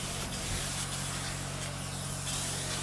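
Soy-based two-component spray foam insulation hisses out of a spray gun onto a wall in a loud, continuous close-up spray with faint pulsing surges.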